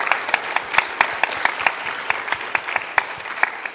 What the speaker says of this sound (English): just give a brief round of applause to these people as they're in the audience